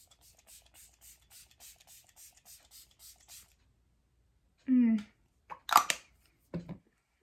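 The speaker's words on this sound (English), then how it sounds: "So let me just spritz it on my face." A rapid run of about a dozen short, evenly spaced hissing spritzes from an ELF x Jen Atkins face mist spray bottle, sprayed close up. A few seconds of talking follow.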